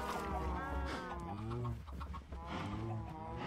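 Chicken clucking in Minecraft, a few rhythmic fowl clucks and warbling tones that are fairly quiet, with a voice talking over them.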